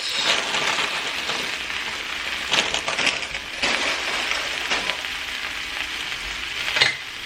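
A big handful of spinach is added to a hot pan, sizzling and frying loudly and steadily, with occasional stirring scrapes and clinks breaking through.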